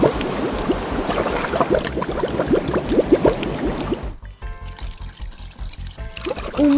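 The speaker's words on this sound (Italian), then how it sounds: "Guarda, l'acqua scende e fa girare la ruota." Water pours down a toy dolphin water mill and turns its little wheel, a steady splashing trickle that goes quieter and sparser partway through, with a brief faint voice near the end.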